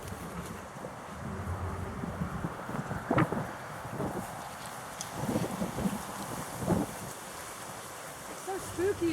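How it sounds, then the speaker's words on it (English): Wind blows outdoors with a steady, rough rushing and buffeting across the microphone, moderately loud throughout, with a few brief bumps and a voice faintly underneath. "It's so spooky and windy."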